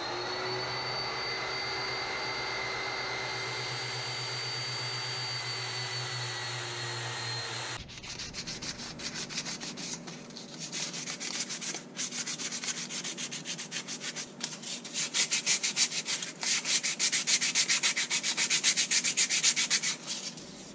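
Belt sander mounted upside down in a jig, sanding padauk wood for a pepper grinder and salt shaker set, a steady motor hum that turns into harsh, uneven rasping and scraping as the wood is pressed against the belt.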